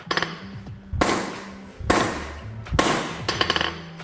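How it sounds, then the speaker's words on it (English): Hand hammer striking wrought magnesium alloy: several sharp, loud metallic blows spaced roughly a second apart, each with a brief ringing decay, close by, with a quicker cluster of strikes at the end. "With the hand hammer."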